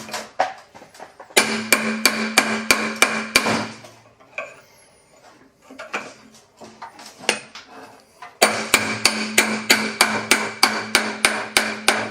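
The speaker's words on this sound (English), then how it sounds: "Let's grab a couple of screwdrivers and a hammer." Sharp metallic hammer blows strike VW engine parts in rapid repeated bursts, loud and close, with a quieter pause of scraping and handling between the two runs of strikes.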